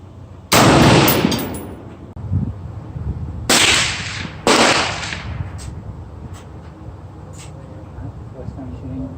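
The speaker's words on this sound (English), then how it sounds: "First time shooting, sitting down off the bipod." Three loud, sharp rifle reports from an LFA AR-10 in 6.5 Creedmoor fired from a bipod, each a sudden crack with a decaying tail, spaced a few seconds apart, with faint background voices between shots.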